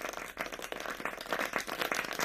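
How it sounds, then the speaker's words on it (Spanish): Scattered, fairly faint hand-clapping from a small audience, rendered as irregular separate claps rather than a dense roar, acknowledging a speaker after a presentation. "Pues ese aplauso es para ti, Antonio, por tu presentación"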